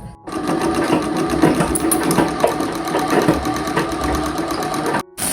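A freshly oiled sewing machine runs steadily up close, a loud continuous rapid clatter and whir that cuts off briefly near the end, then resumes.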